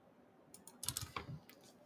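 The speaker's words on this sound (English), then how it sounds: "I'm just typing something." Keystrokes tapped on an HP desktop workstation's computer keyboard, a short burst of quiet clicking keys in a brief irregular run, close and faint.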